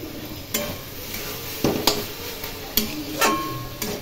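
Spatula strokes knock and scrape in a pan of bottle gourd and prawn curry with ghee, a handful of spaced clinks over a soft steady sizzle, close by.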